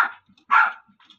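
A five-month-old pet dog named Winter gives two short, sharp barks with a faint yip between them, close by and alone in a quiet room.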